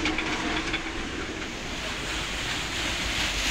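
Water rushes out beneath a water-powered flour mill grinding grain with a turning stone, a continuous loud churning roar and splash close by, with no pauses.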